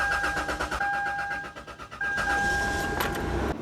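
An old car engine that had sat unused for two years cranks and catches, a steady mechanical rumble with whining tones running throughout, loud and close, and a brief rise near the end.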